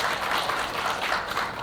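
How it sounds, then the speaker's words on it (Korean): A short, steady burst of applause welcoming a guest at a memorial ceremony for General Choi Un-san, moderate in level and fairly continuous, with no voices. "큰 박수로 환영해 주십시오."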